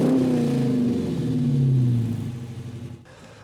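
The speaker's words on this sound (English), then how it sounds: "We're gonna hear that Hemi sing with that Mopar Performance exhaust." A Dodge Challenger R/T Shaker's Hemi V8 revs through its Mopar Performance exhaust, a deep, loud, close rumble that swells and holds before dropping away abruptly near the end.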